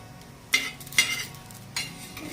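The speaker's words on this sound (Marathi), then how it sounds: "असे मिरच्या भाजून घ्यायच्या. लगेच आपल्याला धने टाकायचे." Coriander seeds roast in a little oil in a pan alongside chillies, making three soft scraping stirs over a faint sizzle, up close and quiet.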